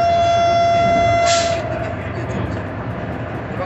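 The Howrah to NJP Vande Bharat Express runs with a loud, steady rumble, and a sustained horn-like tone sounds over it for about the first second and a half.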